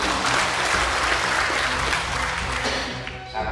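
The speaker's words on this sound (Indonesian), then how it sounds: "Tepuk tangan untuk semua." An audience at a halal slaughter training opening ceremony in Subang, West Java, breaks into dense, steady applause that carries on loudly for a few seconds before tapering slightly at the end.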